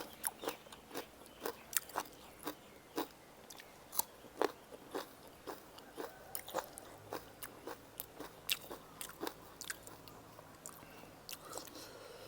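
Close-up eating of grilled beef with spicy jaew dipping sauce, with steady crisp bites and moist chewing repeating in an irregular rhythm, faint and intimate, with no talk.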